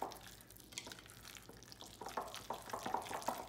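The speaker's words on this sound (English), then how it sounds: "we're gonna take a spoon and just stir these ingredients" A spoon stirring guacamole ingredients in a bowl, soft wet squelches and light scraping clicks that grow busier and more rhythmic toward the end, quiet and close.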